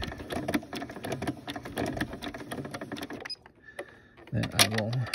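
A sewing machine stitches rope in reverse with a fast, steady mechanical rattle for about three seconds, stops, then someone talks over quieter handling noises.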